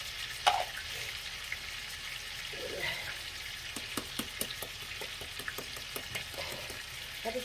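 Steak sizzling in a pan, a steady crackling fry with small pops and occasional clinks of a utensil stirring, fairly faint and close, with no talking.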